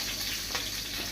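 Curry leaves sizzle in hot oil for crab curry, a brief steady hiss of frying, fairly faint and close, with no talk.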